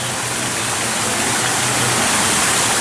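A rock-work waterfall at an exhibit in San Antonio Zoo pours in a loud, steady broadband rush, continuous and close, with no voices.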